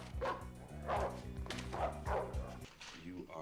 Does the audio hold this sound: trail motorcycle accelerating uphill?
no